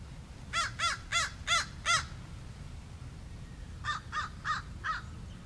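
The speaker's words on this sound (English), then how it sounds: "The crows are excited." Crows caw outdoors in two bursts: five loud, evenly spaced caws, a pause, then four slightly fainter caws answering at a similar steady rhythm.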